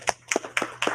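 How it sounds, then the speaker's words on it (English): A few sharp hand claps from a small audience at a lecture honouring Don Reed, four distinct claps spaced evenly over about a second, close and clear with no talk. "Let's give Don a round of applause"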